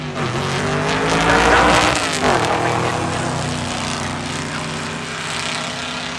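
A 1937 Dodge pickup and a 1970 Camaro drag racing side by side in a bullseye-category cheap car challenge, loud engine roar swelling early then holding steady as the cars launch down the strip.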